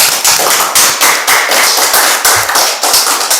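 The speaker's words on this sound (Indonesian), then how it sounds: "Jadi aplaus loh." Hands clapping in steady applause, a dense run of sharp, close claps from a group that keeps an even pace the whole time, with no talking.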